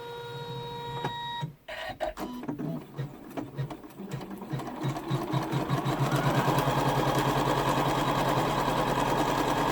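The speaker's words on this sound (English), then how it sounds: "So let's come through and we are ready to stitch." An embroidery machine stitches a satin scallop pouch in the hoop, starting with a few beeps and stuttering stitches before settling into a fast, steady, rhythmic whir that grows louder.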